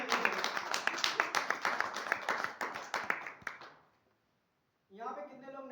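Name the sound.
audience applause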